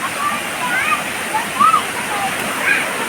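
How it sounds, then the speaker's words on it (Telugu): Steady rushing and splashing of a small waterfall fills the scene, with a few brief high chirps rising above the water noise. "అక్కడ ఒక వాటర్ ఫాల్ చూసినారు కదా"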